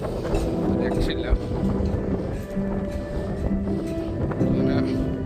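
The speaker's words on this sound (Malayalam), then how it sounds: "കാറ്റ് രക്ഷയില്ല." Strong wind buffeting the microphone at Budaiya public beach in Bahrain, a continuous low roar with gusty bumps, while someone talks over it.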